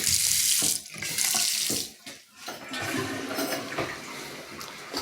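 Water runs from a household tap in a steady, loud rushing stream, briefly dipping and surging as the flow is adjusted, with no talking over it.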